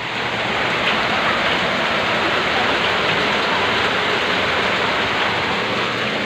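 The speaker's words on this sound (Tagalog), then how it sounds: "Ang lakas ng ulan, grabe oh." Heavy rain pours down steadily during flooding at a house, a dense, loud, unbroken hiss that continues without pause for the whole stretch.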